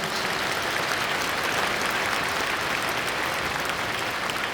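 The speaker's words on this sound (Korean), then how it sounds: "우리 박수." A crowd at an Easter joint worship prayer meeting in a large church applauds members of parliament as they are introduced. The clapping is dense, steady and loud throughout, with no voices over it.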